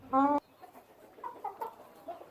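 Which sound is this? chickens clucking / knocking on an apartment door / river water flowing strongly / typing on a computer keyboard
chickens clucking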